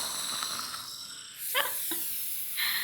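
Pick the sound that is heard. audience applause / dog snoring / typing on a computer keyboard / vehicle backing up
dog snoring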